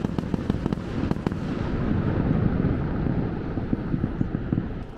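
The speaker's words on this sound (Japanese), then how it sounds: "こうやってちゃんと花火見たの今年初かもしれない。" Fireworks booming and crackling continuously outdoors at Niagara Falls, a dense rumbling barrage with sharp pops, heard from a distance amid open-air ambience.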